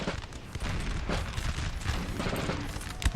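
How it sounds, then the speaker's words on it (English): Napoleon Total War battle with musket volleys and cannon shots, a dense, loud fusillade of overlapping gunfire and booms that crackles steadily throughout. "That was a vicious cannon shot there."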